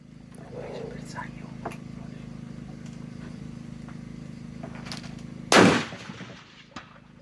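A single loud, sharp shot from a Tikka Ace Target 6.5 Creedmoor rifle, sounding late in the clip after several seconds of quiet background hum with faint low speech, then a brief fading tail.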